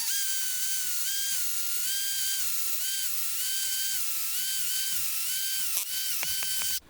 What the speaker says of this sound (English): I'm using a 3/8 inch bit here, and I'm just going to go fairly close to the top